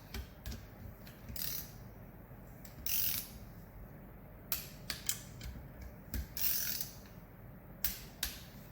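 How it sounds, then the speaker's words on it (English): A torque wrench tightens bolts to 89 inch-pounds on a MINI Cooper N12/N16 cylinder head, giving repeated quiet ratcheting clicks in short bursts with a few sharp snaps and pauses between them, close and alone. "then we get our torque wrench out. Guess what? 89 inch-pounds."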